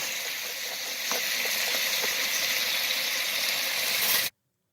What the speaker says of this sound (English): Does anyone else just love listening to the sound of sizzling bacon?